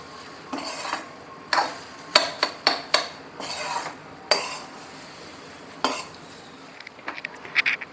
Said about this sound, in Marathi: आता हे सगळं मिक्स करून घेऊया.